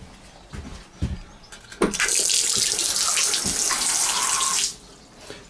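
Water runs from a sink tap in a steady, close gush for about three seconds, preceded by a few light knocks and followed by quiet.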